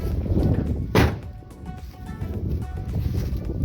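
An old truck panel shut by hand, a single loud solid thunk near the start, followed by low rumbling and faint background clatter, close by.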